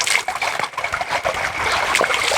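Water trickles and splashes steadily out of a rock in the Idanre Hills of Nigeria, a close, continuous bubbling and dribbling sound.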